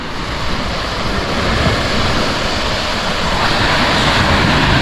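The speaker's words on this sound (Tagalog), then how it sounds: "Pakinggan yung ganitong tunog ng dagat, o tignan nyo, pakinggan nyo" Continuous roar of sea waves washing in at a beach in Lobo, Batangas, steady and full, with some wind buffeting the microphone and no voices.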